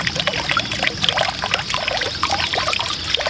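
A small garden fountain pump pushes water out into a tub on a trial run, making a continuous close splashing and trickling flow that stays steady throughout.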